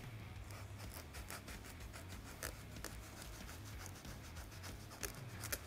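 A razor knife trims excess material from a vented windshield on a Honda Talon 1000, with faint, steady scraping and slicing strokes that repeat close up under a low background hum.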